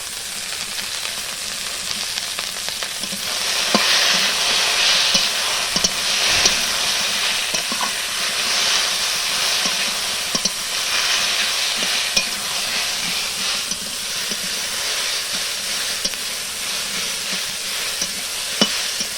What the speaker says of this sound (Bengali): মশলাটা একটু নেড়ে চেড়ে